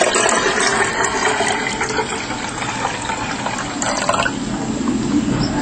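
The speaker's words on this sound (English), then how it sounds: "Okay, let's put water." Water pours into a stainless steel HHO cell, a continuous splashing gush that stays fairly steady for several seconds, close up with no voices.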